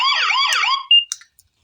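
A solar infrared wireless alarm system sounds a loud warbling electronic tone, then gives a few short sharp beeps before falling silent.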